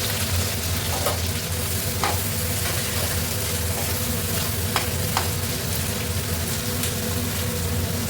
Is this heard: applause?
no